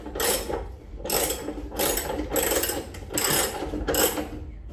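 A ratchet with long extensions loosens the tank bolts on a Royal Enfield Bullet 500, making six rhythmic bursts of close, clicking ratchet strokes at a steady pace.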